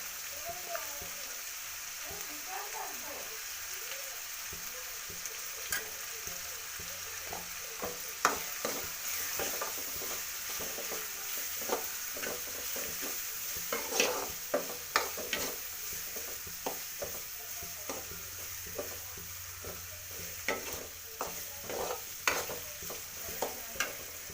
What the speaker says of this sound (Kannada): ಹಾಗೆ ಈರುಳ್ಳಿ ಬೇಗ ಫ್ರೈ ಆಗುತ್ತೆ.